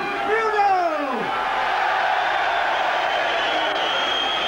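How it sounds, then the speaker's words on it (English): A boxing arena crowd roars for Frank Bruno after his fight with Joe Bugner, with a rising whoop at the start giving way to a steady, loud wash of cheering and applause. "So the final applause then for Bruno"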